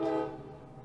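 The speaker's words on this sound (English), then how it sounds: "the train that interrupts the podcast every once in a while" A passing train sounds a loud horn blast near a podcast recording room, the tone fading quickly into a lingering low rumble.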